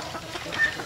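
Chickens cluck softly and fairly faintly in a short, steady patter of calls with no one speaking.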